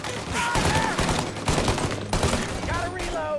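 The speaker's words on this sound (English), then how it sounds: "Got the Tommy gun, of course." Tommy gun firing in Mafia Definitive Edition, a 1930s gangster shootout: a continuous rattling fusillade of automatic fire, loud and steady, mixed with other battle noise.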